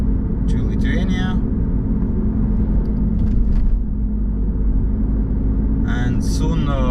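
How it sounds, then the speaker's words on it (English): A car driving on the road toward Lithuania, near Bauska, early in the morning, heard from inside as a steady low engine and road rumble that runs throughout, with brief higher noises near the start and end. "So yeah, now I'm driving"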